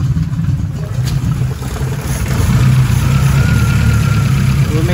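Carbureted car engine idling steadily with a low, continuous rumble, held close and fairly loud, with a slight rise in intensity partway through and no talking.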